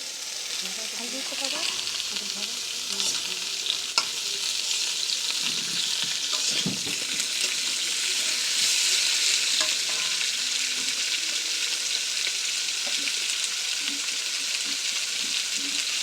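Bitter gourd frying in oil in a pan, a loud steady hiss and crackle lasting throughout, with occasional stirring scrapes and a voice faintly underneath.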